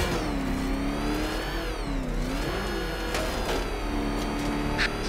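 The Batmobile's engine in Batman Arkham Knight hums and revs continuously, pitch wavering up and down as it drives, with steady road and game noise beneath.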